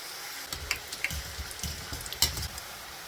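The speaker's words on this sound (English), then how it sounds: "And continue cutting and frying until you get to the final part." Nigerian buns sizzle and bubble in hot frying oil, a soft steady crackle with scattered small pops and light stirring clicks, close but fairly quiet, with no voices.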